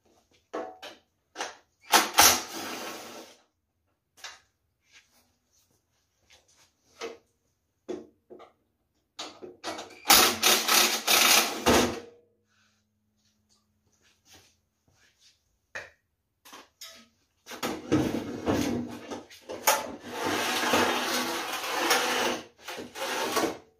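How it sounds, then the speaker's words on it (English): Scattered mechanical clanks and rattles as bolts are undone and the auger is slid off a Honda HS928 snowblower, coming in short bursts separated by quiet gaps, with a few longer scraping stretches. "I will undo those last two bolts and slide the auger off."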